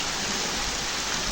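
Steady rain pours down outdoors in a dense, even hiss with no gaps, close and fairly loud, with no voices over it.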